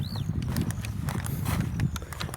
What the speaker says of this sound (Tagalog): Ang aming kalabaw.